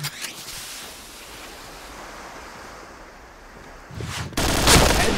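An AUG rifle fires in the Point Blank shooter game: a steady hiss of rushing noise breaks at the end into a loud, dense burst of gunfire.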